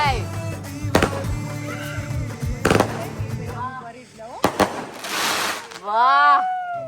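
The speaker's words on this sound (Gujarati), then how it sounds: "વાહ આ કેટલા ધડાકા છે" Diwali firecrackers burst in sharp, loud bangs a second or two apart, with crackling and fizzing between them and voices chattering nearby.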